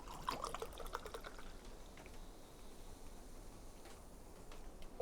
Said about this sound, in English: let's go and pour in my soda limonada